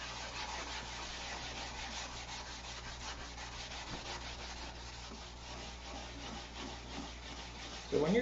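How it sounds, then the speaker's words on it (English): Steady, rhythmic scratching of sandpaper rubbed back and forth across wood, close and fairly quiet, continuing without pause. "So when you're sanding, be listening."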